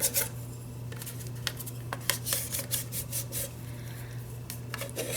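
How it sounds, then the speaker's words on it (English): Glued paper being burnished onto a small Altoids mint tin, a close, steady rubbing with brief scraping strokes over a constant low hum. "And here again, we will kind of burnish that."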